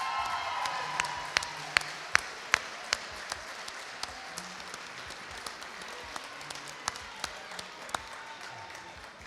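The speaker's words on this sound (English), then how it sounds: "Let's give them a big round of applause." Awards-ceremony audience at the United Way Spirit Awards claps steadily, a moderate, continuous patter of applause with scattered sharper claps standing out and faint cheering beneath.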